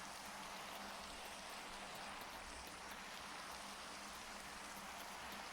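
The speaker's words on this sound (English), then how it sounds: "Just wish the rain would stop." Steady hiss of rain falling at night in a survival game, soft and even throughout with faint patter of drops, no voices over it.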